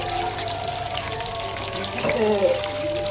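Water is added to a cooking pot of duck broth in a home kitchen, a short splashing pour rising midway over a constant background hiss.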